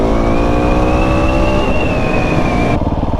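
Loud, close motorcycle engine revving hard in second gear as the rider accelerates into a wheelie, its pitch climbing steadily before the throttle eases off near the end.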